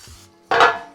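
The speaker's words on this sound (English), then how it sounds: "Loaf pan, give it a spray" A short hiss of cooking spray onto a loaf pan, a single burst lasting about half a second, close and fairly loud after a brief soft clatter.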